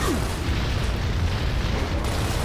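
A frag grenade blast in the video game Gears of War Reloaded, a loud, dense, rumbling boom that fills the whole moment without pause.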